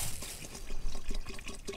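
Water is poured into a panchagavya mixture of cow curd and other ingredients, a close, short burst of splashing and gurgling liquid heard alone.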